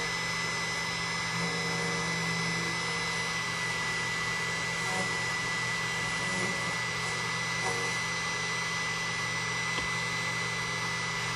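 An ILCO Matrix II key machine runs with a steady, continuous motor whine and grinding as it traces and cuts a metal key blank held in a vice, loud and unbroken throughout with no voices.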